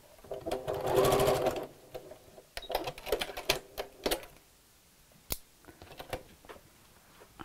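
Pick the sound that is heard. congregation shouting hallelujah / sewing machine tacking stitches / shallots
sewing machine tacking stitches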